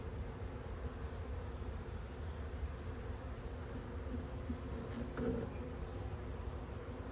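Honey bees buzz in a steady, dense drone during a swarm cutout from an owl house, a quiet continuous hum with a brief louder rustle near the end.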